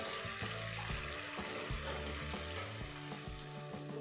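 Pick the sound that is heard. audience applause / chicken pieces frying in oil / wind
chicken pieces frying in oil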